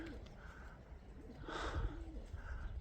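Pigeons in a fancier's loft area cooing softly in repeated low, throaty phrases at a moderate distance, over faint background noise and without talk.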